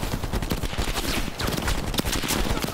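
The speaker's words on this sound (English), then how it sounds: "I'm getting shot from back there too." Rapid, continuous gunfire from Call of Duty Black Ops Cold War fills the scene, loud dense bursts of shots layered over one another without pause or speech.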